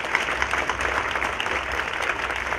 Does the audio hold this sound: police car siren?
no